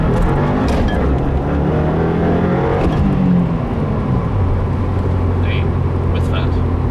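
A 2015 Subaru WRX accelerates hard at full throttle in first gear, with a loud, continuous engine roar and road noise from inside the car and a brief voice partway through.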